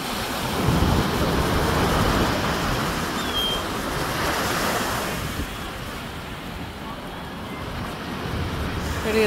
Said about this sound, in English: lots of waves coming in.